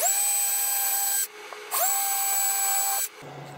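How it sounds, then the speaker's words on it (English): A power drill bores a pilot hole into a wooden back wall, whining up to a high steady pitch in two close bursts, each ending abruptly, with a short pause between them. "I'm going to drill a pilot hole, but no deeper than the thickness of this back wall here"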